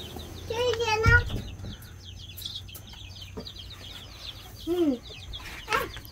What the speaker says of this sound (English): And here is the small chickens.